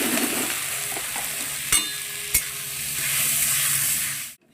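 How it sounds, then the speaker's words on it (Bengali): Sago pearls frying in leftover ghee in a wok for sabudana payesh, a loud, close hiss with two sharp spatula knocks and steady stirring, ending abruptly. "ওই কড়াইয়েই যেটুকুনো ঘি আছে ওর মধ্যে আমি এই সাবুদানাটা ভেজে নেব"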